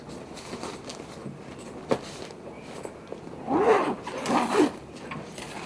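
A zipper is drawn in two quick rasping pulls, close and fairly loud, after a stretch of faint rustling and one small click.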